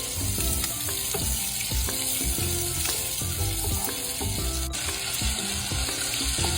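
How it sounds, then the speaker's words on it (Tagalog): Garlic, onion and ginger sautéing in a pan, a steady dense sizzle and crackle running throughout, close and loud, with a few clinks and scrapes of stirring mixed in and no voices. "Saute garlic, onion,"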